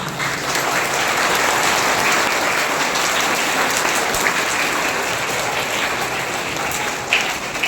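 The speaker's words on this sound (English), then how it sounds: "So once again, clap for yourself." Sustained applause from school students at a World Ozone Day school program, a dense and steady crowd of clapping that runs loud for the full length before easing slightly at the end.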